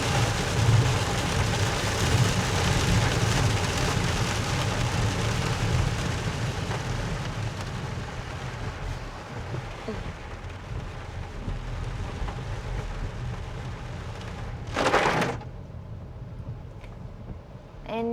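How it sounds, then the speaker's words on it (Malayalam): Heavy rain pounds a car driving on an expressway, giving a steady broad wash of drumming and road noise that eases slightly midway, with a brief louder burst near the end. "ഭയങ്കര മഴയോ കേട്ടോ, പെരുമഴ"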